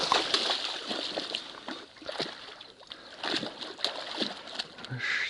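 A hooked grass carp thrashing at the surface while being landed on a fishing line, close irregular splashes and sloshing water bursts across a few seconds, with faint outdoor background.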